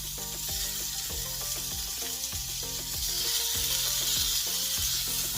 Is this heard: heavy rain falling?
no